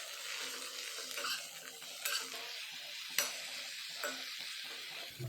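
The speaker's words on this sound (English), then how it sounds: "Give this a good mix." Brinjal pieces being mixed in a pan of water with turmeric and salt, soft wet stirring and scraping with a few sharp utensil clinks against the vessel, close and fairly quiet.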